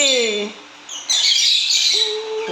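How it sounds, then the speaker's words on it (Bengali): Pet lovebirds and cockatiels squawk loudly and close by, with shrill, overlapping calls that build into a dense, continuous chorus. "এত পাখির আওয়াজ কোথা থেকে হয়"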